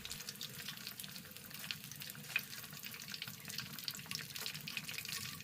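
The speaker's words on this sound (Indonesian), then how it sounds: "Lanjutkan menggoreng sampai nugget mie-nya habis ya." Instant noodle nuggets fry in hot oil, giving a steady close crackling sizzle with busy bubbling that continues evenly throughout, with no voices.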